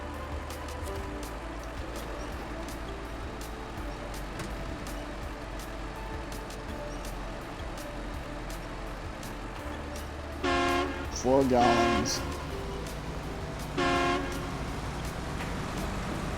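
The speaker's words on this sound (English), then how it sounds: "Sorry for all the honking." A truck horn in the off-road driving game SnowRunner gives a few loud honks near the end, over a constant low engine drone, and someone speaks briefly before them.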